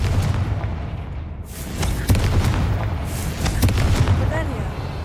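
A Confringo fire-blast spell explodes in the Hogwarts Legacy video game amid a steady roar of booms and crackling blasts, with a voice speaking over the din.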